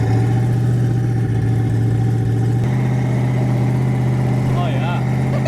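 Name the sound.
twin turbo Mustang engine driving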